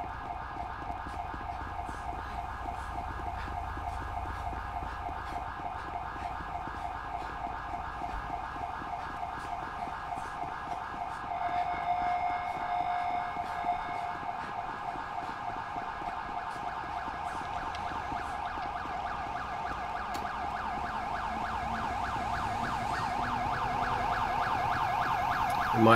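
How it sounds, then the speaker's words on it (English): A steady electronic police siren from the video game GTA wails continuously in the background alongside a low vehicle hum, growing slightly louder toward the end. "Might just kill that siren."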